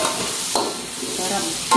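Red chili and tomato fry in oil with a steady close sizzle, broken by brief stirring scrapes, and no talk over it.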